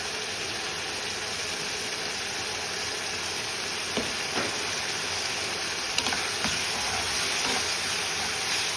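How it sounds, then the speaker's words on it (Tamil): Asafoetida sautés in hot oil with a steady, moderate sizzling hiss, punctuated by a few soft clicks and stirring taps, without any talk. "பெருங்காயம் போட்டு வதக்கணும்."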